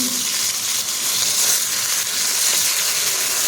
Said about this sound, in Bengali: তো সবার প্রথমে আমি মাছটা ভেজে নেব